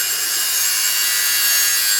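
Sanding or grinding on a car part during car-show prep: a close, continuous abrasive hiss that holds steady and loud without a break.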